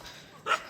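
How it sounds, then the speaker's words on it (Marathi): A single short dog bark, faint and somewhat distant, from one of several dogs roaming a hillside village farm compound near the Arabian Sea, rising briefly above quiet outdoor background. "डॉगीज भाई कुत्रे बित्रे सोबत आहेत आपल्या"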